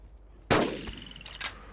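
A single sharp gunshot from a hunting rifle in the Carnivores Dinosaur Hunt video game, loud and sudden after a short quiet stretch, followed by a ringing tail and a few fainter in-game impacts and clicks.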